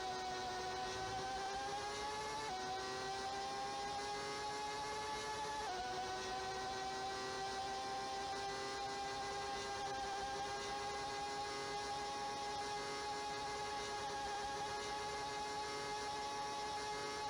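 BMW and other racing car engines in a racing video game at Hockenheim, heard as a faint, steady, high mechanical drone with a couple of brief shifts in pitch early on.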